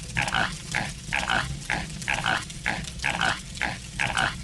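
A video game pig from Evil Dead: Hail to the King, snorting out a repeated, evenly spaced series of close grunts, roughly ten of them, over a low droning room tone, with no voices.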